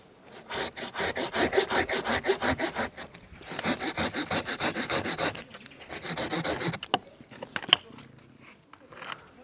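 A saw cuts through a persimmon tree branch being prepared for grafting. It gives close, loud, rhythmic back-and-forth rasping strokes in three sustained bursts, with brief pauses and small knocks between them.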